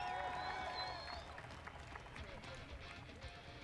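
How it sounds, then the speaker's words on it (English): A large crowd claps and cheers at the 2014 Colorado Freeride Festival slopestyle finals: a dense, steady roar of applause from a big outdoor audience, heard under an announcer's voice. "The crowd is putting their hands together for him right now"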